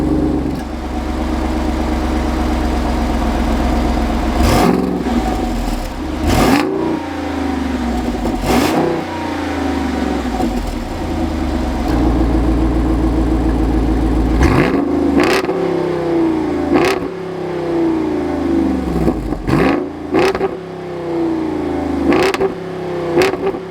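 An SUV engine on its stock exhaust idles and then revs sharply again and again, about half a dozen rising blips, each dropping back to a low rumble, loud and close with no talking.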